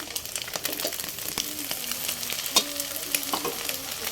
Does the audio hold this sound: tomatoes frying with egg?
yes